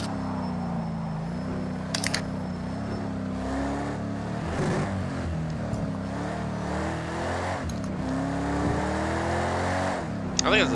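A V8 race car engine in a racing video game drones steadily throughout, its pitch rising and falling with gear changes and acceleration, under a voice talking.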